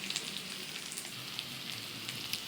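Potatoes fry with turmeric in a pan for an egg and potato curry, giving a continuous fine crackling sizzle, soft and close, with no talk.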